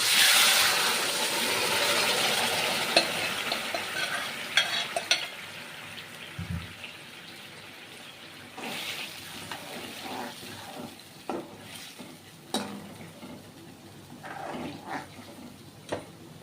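Boiled tomatoes dropped into golden-brown onions frying in a pan for tomato soup: a loud sizzle that gradually fades, followed by scattered clinks and stirring knocks from the pan, with no talking.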